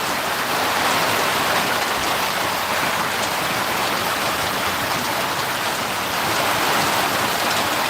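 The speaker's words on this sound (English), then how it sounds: "it pours down rain and you can't hear a damn thing." Heavy rain pours down on a shed, a dense, loud, unbroken hiss of drops drumming on the roof throughout, with no voices.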